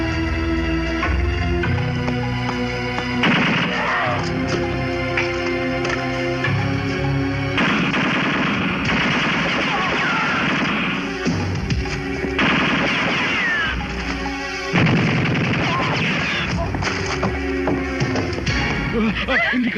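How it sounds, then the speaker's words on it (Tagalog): Gunfire erupts from behind a filing cabinet in a film shootout, loud sustained bursts of machine-gun fire in rapid repeated volleys with brief pauses, mixed with shouting voices. "Nagmumula ang putok sa likod ng filing cabinet."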